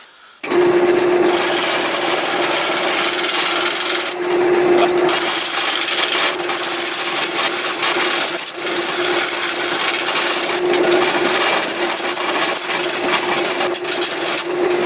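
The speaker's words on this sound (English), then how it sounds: "I'm using this bowl gouge to help straighten it out." A bowl gouge cuts into wood spinning on a lathe, giving a loud, continuous scraping hiss with a steady hum underneath, broken by a few short pauses.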